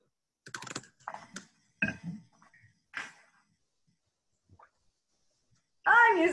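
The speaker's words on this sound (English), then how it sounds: "I'll type it." Typing on a computer keyboard in a quiet room: short clusters of key clicks come and go with pauses between, close and moderately loud, ending in a louder burst of sound.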